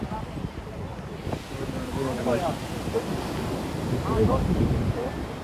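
Wind gusts across the microphone on a busy beach at Puri, Odisha, with waves washing in behind and people chatting nearby.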